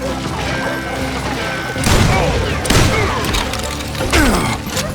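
Gunfire from a Western shooter game, Call of Juarez, comes as a dense fusillade of loud crashing shots and thuds, with bursts at about two, nearly three and four seconds over constant clattering background noise.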